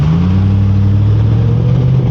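A 2006 Volvo S60R engine drones at close range as the car pulls away, with a steady tone that rises gently under acceleration and no voices over it.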